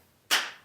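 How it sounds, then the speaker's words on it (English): A single sharp hand clap struck to sync audio, one crisp burst partway in that rings out briefly and fades, alone and fairly close. "Let's do a clap."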